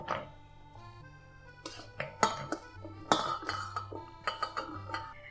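Carrot pieces put into a bowl, a scattered series of light clinks and taps against the dish, close and soft, over faint background music.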